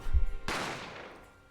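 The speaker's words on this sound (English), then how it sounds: "I didn't have time to think about where the sound of the gunshot had come from" A single gunshot from The Great Ace Attorney rings out after a low thump: one loud, sharp crack that decays into a long reverberant tail, with no voices.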